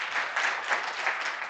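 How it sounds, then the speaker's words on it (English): Audience applause at the closing remarks of a conference, a dense steady wash of clapping from many hands, fairly loud and sustained through the short moment with small swells and no talk over it. "I think we need a massive round of applause for that incredible team."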